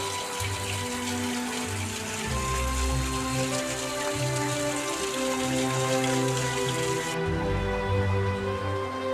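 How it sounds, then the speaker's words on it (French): A rain shower falls outside a pilgrims' shelter, a continuous close patter of drops on surfaces, joined by a steady tonal hum that cuts off abruptly near the end. "Une averse qui vient de tomber."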